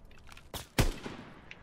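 A sniper rifle fires in the video game Call of Duty: WWII, producing one sharp, punchy shot preceded by a softer crack and followed by faint clicks and a short decay.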